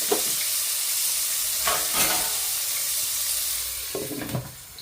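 Tomatoes sautéing in a pan for a prawn and brinjal gravy, a steady loud sizzling hiss with occasional stirring scrapes, close up and continuous, easing off at the end.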